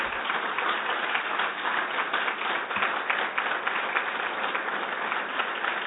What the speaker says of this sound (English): I want us all to just take a moment to give a round of applause to the team in the Attorney General's office